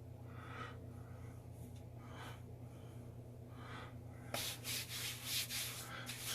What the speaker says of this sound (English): just rub the excess on my arm